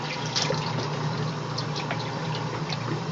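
A vintage Maytag A50 washing machine fills with water during a rinse, giving a steady, close, full rushing flow with faint splashes throughout.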